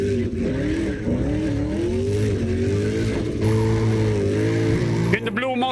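A car drifting in CarX Drift Racing Online, engine droning with wavering pitch and tires squealing continuously, loud and close, ending in a burst of sharper squeal; a voice talks over it throughout.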